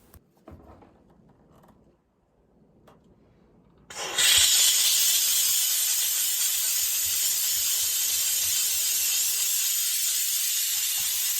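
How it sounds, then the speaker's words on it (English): A Saker handheld steam cleaner is turned on an oven: after a few seconds of faint handling noise, a loud steady hiss of steam bursts in and continues without a break. "I first tried the steam cleaner on my oven because I don't like cleaning ovens."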